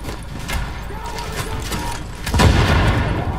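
Gunfire in The Division: scattered shots and booms over a rumbling backdrop, building to a louder burst of heavier impacts near the end.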